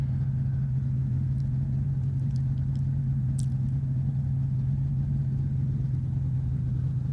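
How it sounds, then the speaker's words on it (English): A race car leaves the starting line while a push truck shoves it from behind, producing a steady, loud, low engine rumble that holds unbroken throughout. "So leaving the starting line here, and off with a push truck."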